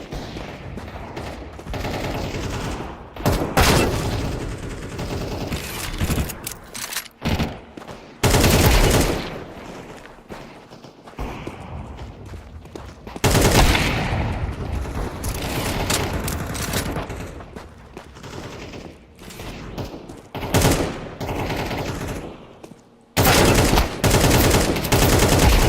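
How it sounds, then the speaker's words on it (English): Rapid bursts of FAMAS rifle fire in a video game, loud and close, coming in dense repeated volleys separated by short silent gaps. "Did you know the FAMAS shoot faster in burst fire?"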